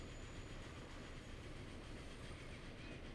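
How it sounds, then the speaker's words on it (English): Train wheels grind on the rails through a steep, tight curve in the Transport Fever railway simulation, heard as a faint continuous rolling rumble with a thin high squeal running through it. "You can hear the grinding of the rails."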